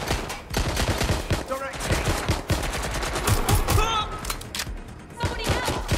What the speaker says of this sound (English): Somebody help! Shots fired!